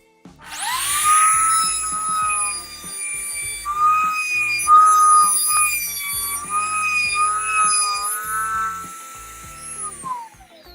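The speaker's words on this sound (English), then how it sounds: "with a firm grip, turn the router on and do a clockwise lap." A high-pitched whining router spins up and cuts steadily into wood in a clockwise lap, its tone wavering slightly as it moves, close and loud, then winds down at the end.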